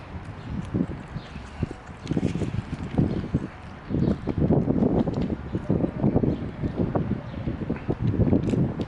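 Strong outdoor wind buffets the microphone in heavy, uneven rumbling gusts that swell and ease throughout, loud and close, with no other sound standing out.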